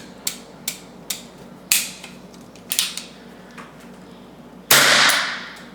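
A reprimed, reloaded .22 rimfire round is fired at a black binder: a series of light mechanical clicks and knocks leads to a single sharp, loud report that trails off.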